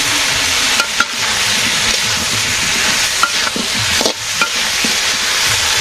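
Fried cauliflower tipped into a pan of cooked vegetables for a village-style silver carp curry and stirred, giving a steady close sizzle with scattered clinks and scrapes of the spatula.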